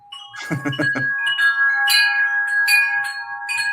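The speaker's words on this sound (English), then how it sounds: "It is the sound of the miracle bell." A chiming miracle bell effect sounds with bright sustained ringing tones that linger and shimmer, following a brief murmur at the start.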